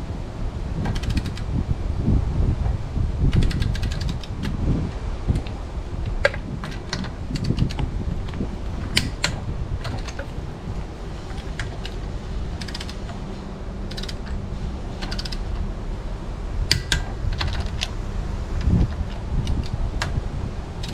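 Ratcheting torque wrench clicking as caravan wheel nuts are tightened to torque, a run of sharp close clicks in irregular bursts over a steady low mechanical hum, with no speech.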